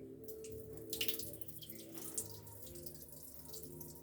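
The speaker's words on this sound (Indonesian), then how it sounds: "alirkan keran selama 1-2 menit karena kita akan mengambil air yang ada di tampungan" A water tap runs steadily during water sampling, a continuous hiss and splash of flowing water close by, with occasional louder splashes and no talking.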